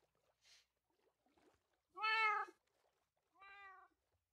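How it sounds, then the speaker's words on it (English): A cat meows three times, short and soft at first, then a loud drawn-out meow and a quieter one, with quiet pauses between and no talking. "Hearing a lot of meows."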